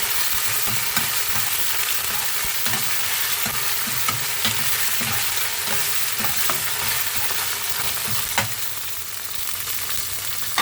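Garlic and tomato paste fry steadily in a pan, a continuous loud sizzle with occasional stirring scrapes and clicks throughout, no talking.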